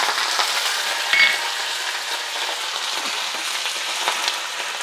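Garlic and curry leaves frying in hot oil for an upsaaru tempering, giving a steady, close, continuous sizzle and crackle with no voices.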